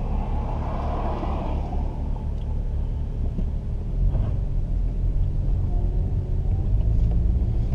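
A BMW 335i's exhaust rumbles steadily as the car drives along a twisting road, a deep continuous drone that swells slightly in the second half, heard up close with no talking.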